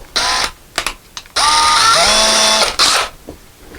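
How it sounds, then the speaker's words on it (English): A power drill fitted with a 3/16 drill bit runs in short bursts, then in one longer run whose pitch rises as the motor speeds up, close and loud. "So we're going to drill it very slowly"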